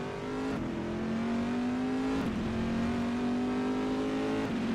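LMP2 prototype race car engines in the sim racing game rFactor 2 at Silverstone, a loud, steady high-revving drone with several quick gear-shift dips.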